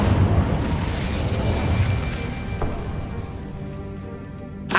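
Incendio fire spell blast in Hogwarts Legacy, a loud roaring burst of flame that rumbles and fades over a few seconds, ending with a short sharp crackle.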